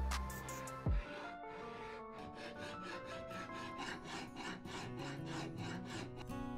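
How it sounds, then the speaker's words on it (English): A hand file works a bevel into a bronze knife blade, making a steady rhythmic rasping of repeated close strokes after a brief clunk at the start, with no talk. "grind in the bevel, and I don't know if it's better to do it with this thing or just a regular file"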